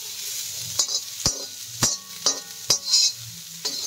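A spoon slowly stirs food frying in a pan, steady sizzle under a series of sharp metal scrapes and clinks against the pan, close and fairly loud, with no voices.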